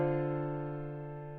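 A soft, sustained chord from a hip-hop progression played at reduced note velocity, a single smooth held chord fading gently and quietly, with no talking.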